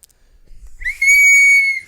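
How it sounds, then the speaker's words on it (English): A single shrill whistle is blown once, starting after a short low rustle, rising sharply and then holding a steady piercing tone for nearly a second. "I don't know if that whistle bothered anybody else"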